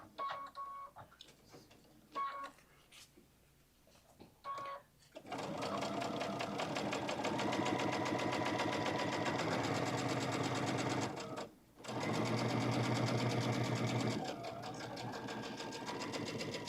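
Sewing machine stitching across the seam of a bag, a few short bursts of rapid needle clatter at first, then a long continuous run, a brief stop, and more stitching to the end.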